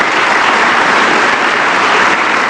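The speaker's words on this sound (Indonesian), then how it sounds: "Kita kasih tepuk tangan dong." Audience applause, a dense, loud, steady wash of clapping with no pauses across the whole span.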